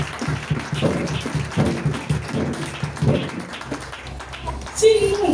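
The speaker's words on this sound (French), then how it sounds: "Acclame pour toi-même." A church congregation applauds in scattered, uneven bursts of clapping and tapping, moderately loud, with a preacher's voice talking over it and calls from the crowd.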